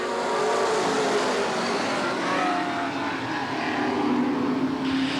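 Race cars roar off together at the green flag at Eugene Speedway in 1990, a dense, steady engine drone holding loud and unbroken for the whole stretch.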